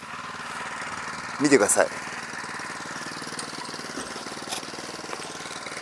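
Four-stroke engine of an MKS1000R single-wheel ditch-cutting machine running steadily at idle, with a short louder burst partway through and someone talking over the even putter.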